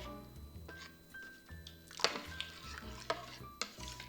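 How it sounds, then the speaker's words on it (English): Spoon stirring rice into milk for rice pudding, with soft scraping swishes and several sharp metallic taps against the pot, close and quiet, with no voice. "Break the lumps of the rice into the milk so it's all evenly distributed."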